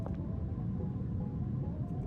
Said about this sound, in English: what sounds kind of like a car above us